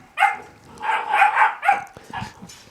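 A dog barks close by in a quick run of sharp, loud woofs and yips, with no talk over them.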